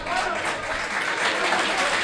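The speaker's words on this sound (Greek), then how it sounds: "Χειροκροτήματα από τους φίλους της Πέλας." Pella supporters applaud steadily through a stadium crowd during an amateur cup final football match, a dense, continuous clatter of clapping filling the air at an even, close level.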